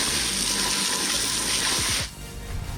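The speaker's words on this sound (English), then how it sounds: "now I'm gonna rinse it" Water sprays hard and steadily onto a wheel of a 1999 Range Rover 4.0 SE being washed, a continuous close hiss that cuts off abruptly near the end, leaving quieter dripping and handling noise.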